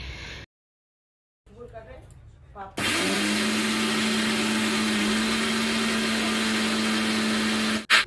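Electric grinder grinding cumin into powder starts after a brief pause and muffled talk, then runs as a loud, close, steady whine that holds for several seconds and cuts off at the end.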